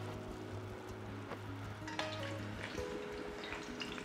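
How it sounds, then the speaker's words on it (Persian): Eggplant slices fry quietly in a pan, giving a faint, continuous sizzle with occasional soft pops over a low steady hum. "بادمجون رو داخل تابه میریزم و به این شکل باز میکنم که خوب سرخ بشه"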